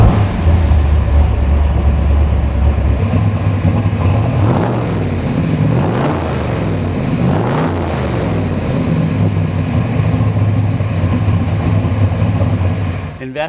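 A 1965 Chevrolet Corvette Sting Ray V8 cranks and catches, then settles into a loud, steady idle with a rough, lumpy throb that carries on alone.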